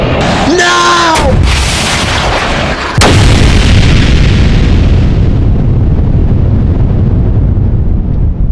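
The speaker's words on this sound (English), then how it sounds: "We need that rocket launcher now!" A video game rocket launcher fires with a sharp whooshing burst, followed by a heavy booming explosion that rumbles on loudly and slowly fades into a long roaring tail.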